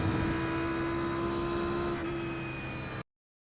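Audi R8 GT3 race car at Silverstone in iRacing, its engine holding a steady, sustained drone at constant pitch for about three seconds before cutting off abruptly, heard alone.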